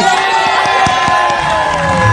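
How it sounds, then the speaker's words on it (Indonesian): A studio audience on an Indonesian TV talk show cheers, whoops and claps in a brief, steady burst of crowd noise, with sharp shouts standing out over the general roar. "tepuk tangan buat Melani nih"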